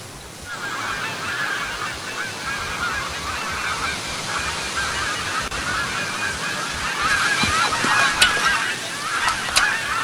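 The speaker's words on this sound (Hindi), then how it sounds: "ये चिड़िया किसकी है?" Loud, repeated goose-like honking calls from a bird, rising in intensity toward the end, heard alone without talk.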